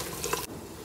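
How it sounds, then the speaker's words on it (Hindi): Ground onion frying in a pan for chole masala, a soft continuous sizzle with a brief stirring scrape, heard close and fairly faint. "अब यहाँ पे हम प्याज को 4 से 5 मिनट तक भून लेंगे"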